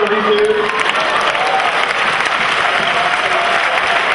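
A sustained burst of audience applause fills the room at a comedy show, dense and even, with faint voices mixed into the clapping.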